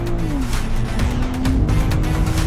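A BMW Z4 road car on road tyres launching off the start line at Dunsfold, loud engine roar rising with gear changes and tire noise, close and continuous.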